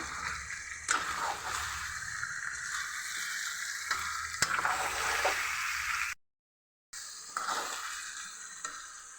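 Masala frying in a pan for a homemade chilapi fish sambar: a loud, steady sizzle with scraping stir strokes, briefly cut to silence before the frying resumes.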